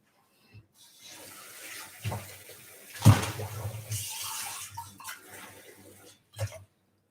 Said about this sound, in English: Now place 1 cup of water.